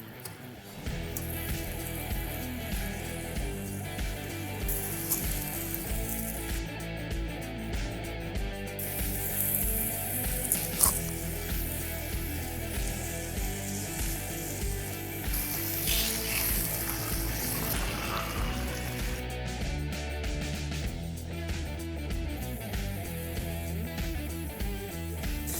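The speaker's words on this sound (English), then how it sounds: "So I'm going to go ahead and throw this on and give it a nice sear." A tri-tip steak sears on a grill grate right over hot coals, giving a loud, continuous crackling sizzle that runs steadily throughout, with sharper pops at times and no talk.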